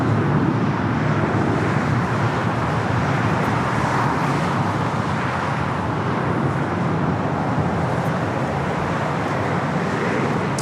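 A JetBlue Airbus A321 takes off from LAX with a continuous, loud, broadband engine roar that holds steady throughout, with no voices.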